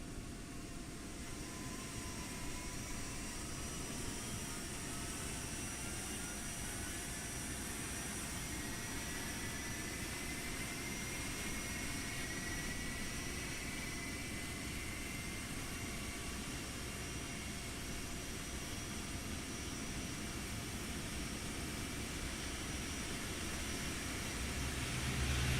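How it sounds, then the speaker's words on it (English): Boeing 787-9 jet engine spooling up during start in a flight simulator, heard from outside as a steady, broad roar with faint rising whine tones that slowly build across the whole stretch, with no talk. "Normal engine start, overlapping right then left, start right engine."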